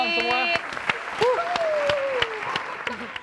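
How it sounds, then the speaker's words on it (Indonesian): Applause for Uki on the Indonesian game show Perfect Score Indonesia: a burst of studio audience clapping, with a host's voice talking over it. "Tepuk sorry tangan buat Uki dulu dong semua."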